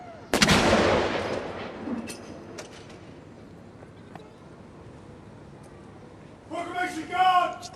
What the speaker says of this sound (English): Now for a gun salute here in the grounds of Cardiff Castle, fired by the 104 Regiment Royal Artillery.